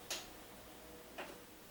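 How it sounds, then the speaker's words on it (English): The timer dial of a Ninja Foodi 500 cooker ticks twice, two crisp, faint clicks about a second apart against quiet room noise. "You can set the time with the timer"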